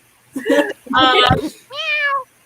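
A cat meows several times in quick succession, the last meow long and clear, with a voice speaking over the earlier ones.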